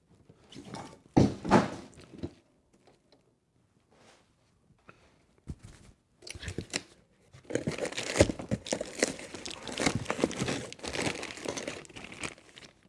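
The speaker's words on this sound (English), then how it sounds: "Get this thing out of the box." A Redcat Gen 8 V2 RC truck being pulled from its box, with loud bursts of crinkling plastic and cardboard packaging, brief rustles separated by pauses, then a longer steady stretch of rustling and handling close by.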